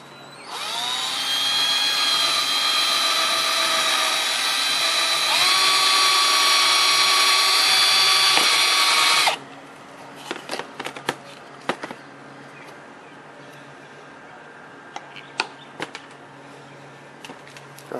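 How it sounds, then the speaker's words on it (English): A power drill bores a small hole behind the fuel door of a VW, whining loudly and steadily for about nine seconds before stopping abruptly, followed by quiet clicks and handling noises. "You drill a small hole"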